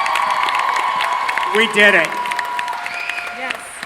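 A Comic Con panel audience claps and cheers in a broad wash of applause that sits beneath a person speaking into a microphone, with a brief louder burst partway through.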